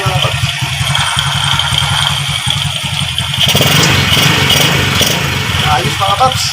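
Engine of a China Motors XRM motorcycle running after a carburetor tune-up for hard starting, a steady close idle with a low throb and mechanical clatter that grows louder and busier partway through.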